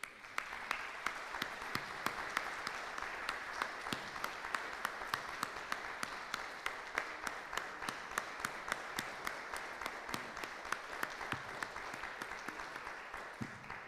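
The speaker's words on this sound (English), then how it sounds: "I would like to give a round of applause." Conference audience at a polytechnic closing session applauds the organising team with sustained, moderately distant clapping, a continuous dense patter with individual sharp claps standing out across the whole stretch.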